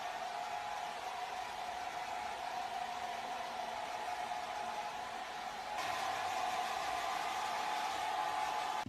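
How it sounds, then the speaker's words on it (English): Steady broadband whoosh of a hair dryer blowing on hair, continuous and close throughout, growing slightly louder and brighter partway through, with no talking. "I'm gonna dry my hair, okay, and I'm gonna show you guys how actually my hair looks like when it's dried"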